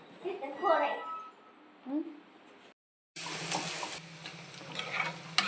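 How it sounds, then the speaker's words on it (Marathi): Paneer cubes frying in oil in a home kitchen, a steady hiss broken by a short silence, then a louder, denser sizzle with occasional stirring clatter; a voice speaks briefly over the start. "इकडं पनीर भाजायला ठेवले तेलात भाजून झाले पनीर"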